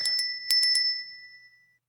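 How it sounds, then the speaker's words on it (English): A bell in a video game chimes in two quick rings, then three more, each bright metallic ding sustaining briefly before fading to silence. "The third bell rang."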